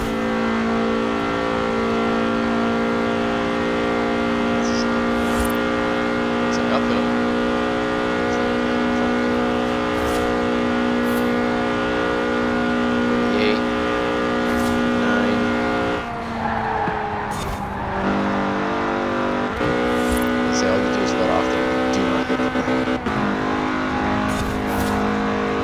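Race car engine in a video game, held at a steady high rev with strong harmonics, then dropping and climbing again as it shifts, with tire squeal and skids, loud and continuous.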